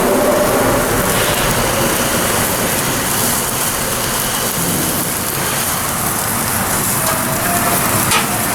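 Rib eye steak searing on a hot grill, a steady loud sizzle and hiss running unbroken for several seconds, with no talking over it.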